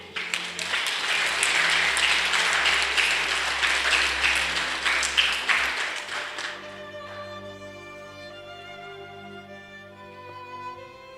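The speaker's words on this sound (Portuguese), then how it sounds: "Pode aplaudir." A church congregation at a Christmas service claps for about six seconds, dense and fairly close. The applause then fades into soft organ or keyboard tones that carry on quietly.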